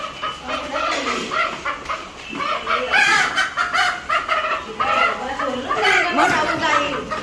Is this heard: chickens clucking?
yes